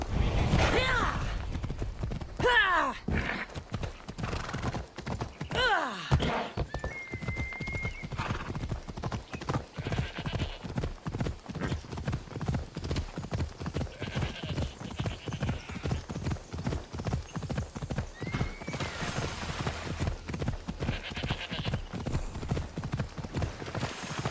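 A horse trots in Assassin's Creed Odyssey, its hooves sounding a steady, even clip-clop rhythm up close throughout, with a few whinnies early on and brief spoken lines from characters over the hoofbeats.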